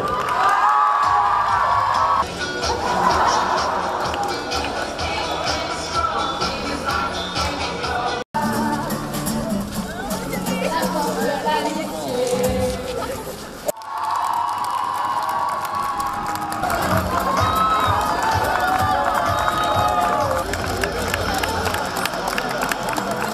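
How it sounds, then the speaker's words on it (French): A large crowd at a school creative challenge cheers, whoops and shouts continuously, with children's voices and loud sustained noise throughout and brief breaks between bursts. "Tonnerre d'applaudissements pour eux"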